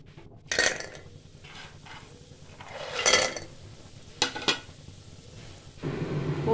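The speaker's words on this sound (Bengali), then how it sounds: "রান্নাটা সর্ষের তেলে করব। অল্প করে তেল দিলাম, অল্প বলতে পরিমাণ মতো, তাতে আমি বড়ি ভেজে নেব" Bori lentil dumplings frying in hot mustard oil give soft sizzling under sharp clinks and scrapes of a utensil stirring in the pan, with a louder sizzle near the end.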